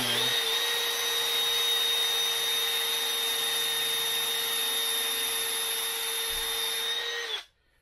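A steady, high-pitched electric drill whines continuously for several seconds at close range while drilling a Kawasaki KX450F motorcycle frame part, then cuts off abruptly near the end, leaving silence.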